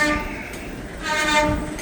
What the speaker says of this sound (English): I do hear another train.